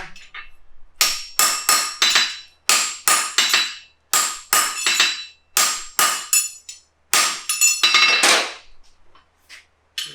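A hammer strikes a stamp through the nail holes of a forged horseshoe in steady sharp blows, each landing with a bright ringing clang. The strikes come in quick groups, close and loud, with brief pauses between them.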